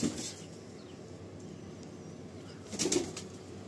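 Flying pigeons in a loft give faint, low coos in two short bursts, at the start and near the end, over a quiet room hum.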